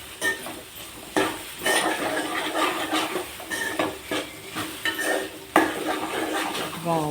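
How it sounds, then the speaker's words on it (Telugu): Corn kernels coated in ginger-garlic paste frying in a pan, stirred again and again, so spoon scrapes and metal clinks come in uneven bursts over a constant sizzle, near and clear, with no one speaking. "ఒక 5 నిమిషాలు దీన్ని మళ్ళీ ఇట్లా ఫ్రై చేయాలి."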